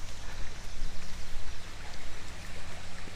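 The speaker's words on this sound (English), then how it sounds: "that accesses this little creek. Listen to that sound." A small creek in a park runs beside a historic stone arch bridge, a steady, close rushing and trickling of water with no voices.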